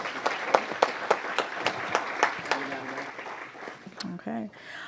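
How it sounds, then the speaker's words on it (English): A crowd at a city council meeting breaks into steady applause, dense clapping that carries on for several seconds before tapering off, with a voice briefly speaking near the end. "Give him a round of applause"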